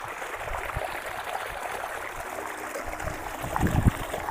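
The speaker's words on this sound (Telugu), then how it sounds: "ఇప్పుడైతే బోర్ వేసిన. నీళ్ళు ఆడ వస్తుంది" Water gushes steadily from a newly drilled borewell on a paddy farm, a continuous rushing stream with low splashing bursts toward the end.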